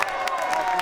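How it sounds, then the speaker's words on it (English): Crowd at an MMA fight letting out a brief swell of oohs and aahs, a dense, steady murmur of many voices at a distance. "Crowd oohs and ahs."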